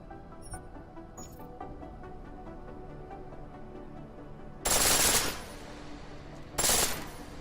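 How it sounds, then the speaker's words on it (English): A pistol fires on full auto in the video game Deus Ex: Mankind Divided: two loud, rapid bursts about two seconds apart, heard over a low background of ambient game sound. "Pistol in full auto will take down targets fast, but it'll burn through your ammo."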